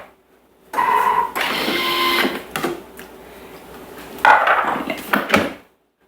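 A Thermomix chops for about two seconds at speed 6, giving a loud, close whirring roar that stops abruptly, followed by softer motor hum and a few clattering bursts from the bowl.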